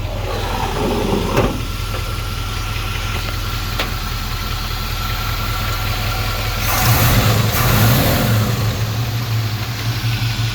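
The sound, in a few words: 1984 Chevrolet C10 engine idling and revving with lifter tick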